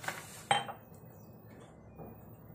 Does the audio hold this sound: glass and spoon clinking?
yes